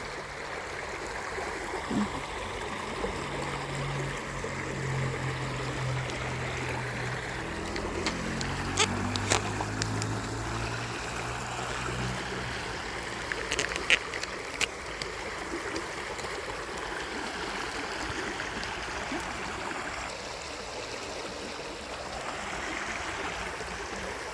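Steady running water flows throughout, a continuous rushing wash with a few brief louder splashes near the middle and a low hum underneath.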